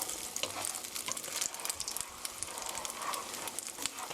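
Beaten egg sizzles in a hot pan as it is stirred gently for a soft scramble. A close, steady crackling frying sound carries light stirring scrapes, with no talk.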